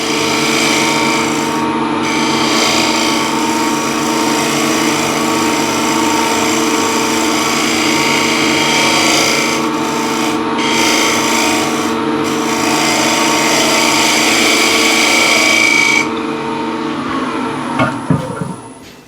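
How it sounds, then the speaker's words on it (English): Wood gouge slicing across the grain of a workpiece, a continuous close scraping rasp that runs steadily with a few brief pauses before tailing off into softer knocks. "Let the wood come down to the gouge."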